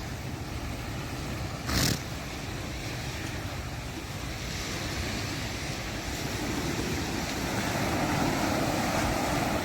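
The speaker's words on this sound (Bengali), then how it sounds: "ছোট ছোট ঢেউ আসছে আর যাচ্ছে" Small sea waves wash in and out on a beach at Thotlakonda near Vizag, a steady broad surf roar mixed with wind, heard alone without voices.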